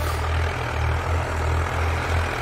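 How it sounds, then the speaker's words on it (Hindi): A Sonalika MM45 diesel tractor fitted with a cultivator runs steadily nearby, its low engine throb pulsing evenly with no talk over it. "करीब करीब 10 मिनट हो चुके हैं ट्रैक्टर को चलते हुए"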